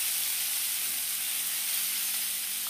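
Ground spice paste sautéing in a hot pan for a simple chicken rice porridge, a dense continuous hiss and sizzle, close and even, with no voices.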